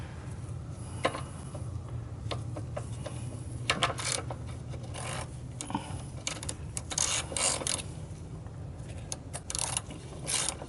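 Tools click and ratchet in irregular bursts while the chain tensioner on a Monster Moto minibike is tightened, close and moderately quiet over a low background hum, with no talking.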